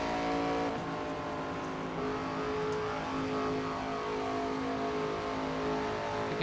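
Race car engine in NASCAR 25 holding a loud, steady high-revving drone throughout, dense harmonic whine with no break or lift, close and continuous.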